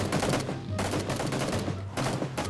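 Gunfire in PUBG, rapid bursts of loud automatic shots rattling in quick succession, with a short gap between volleys.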